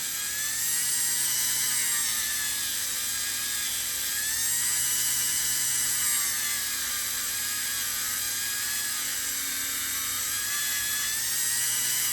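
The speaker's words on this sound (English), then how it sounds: "the Dremel's really not on very high" A Dremel rotary tool carves a wax ring model, running at low speed with a steady, high-pitched whine that stays continuous throughout.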